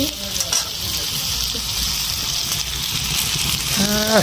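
Food frying hard over high heat on a clay stove fired with wood, a loud steady sizzle and hiss filling the whole stretch, close to the pot, with faint clatter at the edges.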